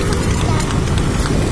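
Horse hooves clip-clop at a trot as a kalesa carriage rolls through Rizal Park, a busy steady rhythm under continuous broadband street and wheel noise, with voices talking nearby.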